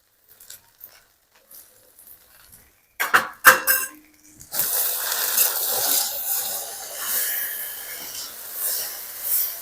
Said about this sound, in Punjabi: ਲਓ ਆਪਾਂ ਮਾਂਜਦੀ ਹੈ ਜੀ ਭਾਂਡੇ ਕਿਉਂਕਿ ਭਾਂਡੇ ਵੀ ਕਾਫੀ ਇਕੱਠੇ ਹੋ ਗਏ ਨੇ